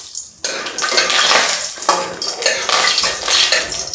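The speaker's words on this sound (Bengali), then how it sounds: "এখন আলুগুলি প্রথমে একটু ভেজে নেব" Chopped potatoes go into hot oil with bay leaf and dried red chili for a pui shak dish, a loud close sizzle with scraping and stirring clatter against the pan, no voices.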